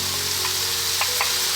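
Milkfish filling for stuffed bangus sizzles in a pan as it is stirred, a brief steady fry with a couple of soft scraping strokes.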